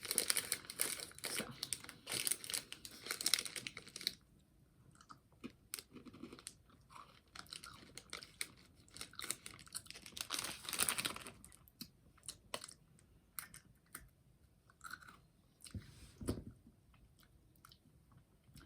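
Crinkling of a wrapper opening and crisp crunching chews of crunchy cookie M&M's, close and fairly quiet, in irregular bursts with pauses between bites.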